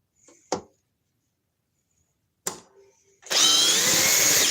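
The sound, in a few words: fast power drill running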